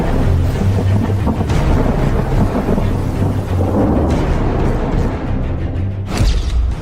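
Heavy rain pours steadily over a flooded city during days of downpour, with deep rolling thunder rumbling underneath; the roar is loud, dense and continuous throughout, with no voices.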